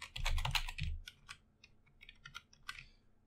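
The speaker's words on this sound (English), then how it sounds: "So let us just type here Adam," Keystrokes on a computer keyboard while entering text into a program: a dense burst of quick clicks at first, then sparser, separate taps, close and clear with no talk.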